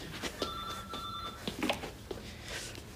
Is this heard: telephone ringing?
yes